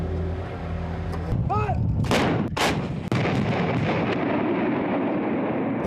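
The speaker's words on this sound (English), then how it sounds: "The ferocity of the Indian artillery response was unprecedented." Indian Army artillery fire during the retaking of occupied mountain positions: a rumbling background of guns, then several loud, sharp booming blasts in quick succession near the middle, followed by a rolling, echoing rumble.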